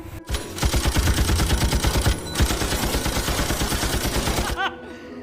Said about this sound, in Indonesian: menyerang semua zombie di sana dengan menggunakan senapan mesin